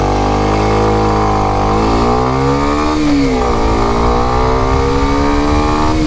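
A Kawasaki Ninja 125 motorcycle engine revving close by, loud and buzzy, its pitch climbing, dipping and climbing again with no talk.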